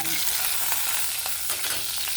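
Onions frying in a hot oil tempering, a dense, loud, steady sizzle with a few soft crackles and stirring touches, short and uninterrupted.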